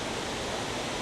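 A Norwegian waterfall floods down a long hillside, giving a steady, broadband rushing roar that fills the moment without pause or variation.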